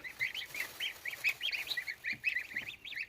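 Rapid, repeated high-pitched honking and peeping calls from goslings of different ages, many short bursts in quick succession, fairly faint and without talk.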